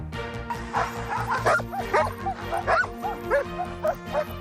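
Iditarod sled dogs bark, yip and whine in an excited chorus, many voices overlapping continuously at close range over a low steady hum.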